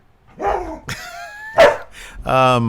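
A dog barks and yips several times up close in quick, uneven bursts, with whimpering, whiny tones between the barks.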